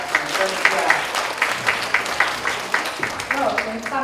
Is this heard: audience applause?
yes